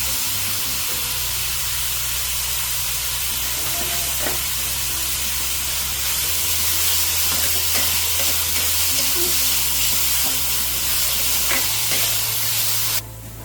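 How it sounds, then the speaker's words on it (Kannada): Onions fry in a pan with salt added, giving a steady, loud sizzle and hiss with occasional stirring scrapes throughout, with no talking. "ಈರುಳ್ಳಿಗೆ ಸ್ವಲ್ಪ ಸಾಲ್ಟ್ ಆ್ಯಡ್ ಮಾಡೋಣ, ಯಾಕಂದರೆ ಅದು ಬೇಗ ಫ್ರೈ ಆಗುತ್ತೆ."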